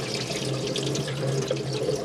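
Hot water runs steadily from a tap into the sink of an Autocruise Pioneer Magellan motorhome, a constant close rushing stream with a low hum beneath it.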